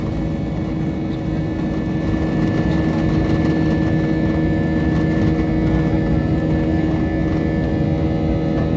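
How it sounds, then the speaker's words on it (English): A loud, steady jet engine roar fills the airliner cabin during takeoff, a constant broadband rumble with a sustained whining tone riding on top. "The engines are a little bit loud, but that's okay. I like the engine spinning sound."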